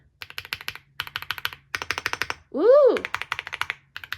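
Typing on a Rainy 75 mechanical keyboard, heavy build with stabilizers: rapid bursts of close, crisp keystroke clacks in quick rhythmic runs, broken once by a rising-and-falling voice exclamation.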